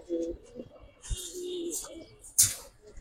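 Old-breed Chotbaan pigeons, Giribaz flying stock, coo in soft, close, repeated bursts, with a few brighter chirps and wing or cage rustles between calls.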